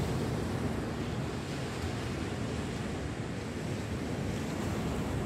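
Sea waves and wind on the shore beside a pier, a dense continuous roar of surf with buffeting wind on the microphone, loud and unbroken, with no voices.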